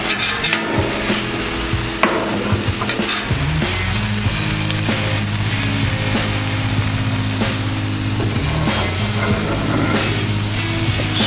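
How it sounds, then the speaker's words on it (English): Steady loud sizzling of beef on a hot Blackstone griddle, a continuous crackling hiss with occasional scraping and clinks from a utensil. "Just listen to that sizzle."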